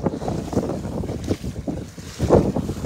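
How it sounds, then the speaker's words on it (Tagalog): Strong wind buffets a fishing boat at sea, a continuous loud roaring rush with gusty swells and low rumbling, no voices heard. "Lakas ang hangin dito mga master."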